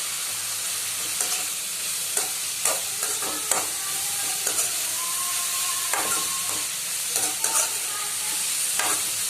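Capsicum and mixed vegetables are stirred in a hot pan over a steady sizzle, with a spatula scraping and clinking at irregular moments, close and clear and with no talk.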